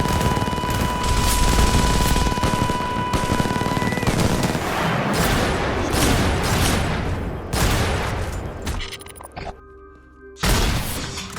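Dense, sustained movie gunfire from Terminator 2 rattles continuously, with rapid bursts and heavy booms overlapping, briefly dropping out near the end before resuming.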